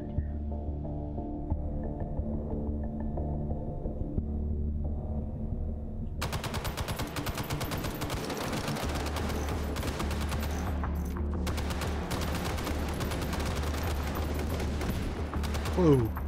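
M60 machine gun fire in the VR game Hot Dogs, Horseshoes & Hand Grenades: dense, sustained bursts crackling over a low steady hum, with distant enemy gunfire mixed in.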